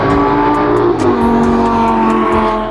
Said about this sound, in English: watch the cars as they race by and listen to the wonderful sounds.